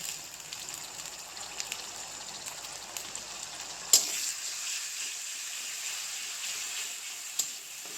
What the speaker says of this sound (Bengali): দিয়ে কিছুক্ষণ এইভাবে মরিচটা ভাজি করে নেব, যাতে মরিচের কাঁচা গন্ধটা চলে যায়